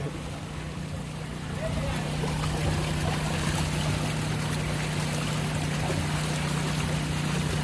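Beach water on a child's first beach visit: steady broadband wash of waves and flowing water with a constant low hum underneath, continuous and fairly loud throughout.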